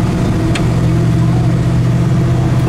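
A 1969 Chevrolet Nova with a 307 V8 and dual exhaust idles close by, a steady, loud low rumble with a prominent hum and no changes in pace, a voice talking faintly over it.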